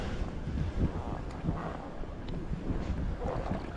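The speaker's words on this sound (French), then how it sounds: "il y a beaucoup de vent aujourd'hui" Steady, rushing wind buffeting the microphone beside a fishing pond, a continuous low roar with gusty swells and no voices.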